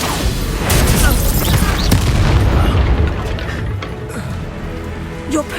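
Incendio fire spell cast in Hogwarts Legacy, a loud booming whoosh of flame that swells and rumbles for several seconds before fading, with faint voices in the background.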